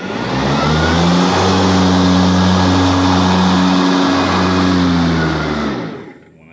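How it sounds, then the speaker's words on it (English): The blades of a Ryobi 40v electric zero turn lawn mower with a 42-inch deck spin up into a loud, steady, whirring hum that holds for several seconds, then winds down and fades near the end. "I'm going to turn on the blades."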